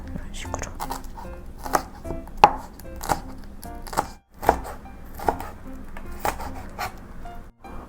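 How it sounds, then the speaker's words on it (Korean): A knife chops rapidly against a cutting board in uneven bursts of sharp taps, close up, with faint kitchen background noise, while vegetables are cut for perilla leaf kimchi. "아이고, 힘든 칼질이 다 끝났습니다."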